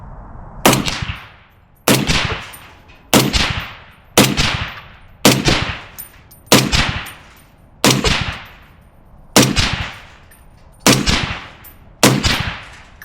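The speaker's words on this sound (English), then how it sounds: "We're just going to see if we can get these off rapid fire and see what that does for reliability." Ten evenly spaced shots from a suppressed POF Revolution rifle at about one-second intervals, each a sharp, loud crack with a short decaying tail, fired outdoors at a 100-yard range with no voices.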